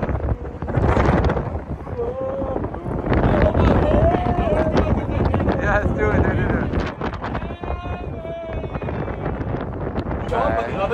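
Gusty wind buffets the microphone with heavy low rumbling while people talk and call out over it at a furry convention in Texas.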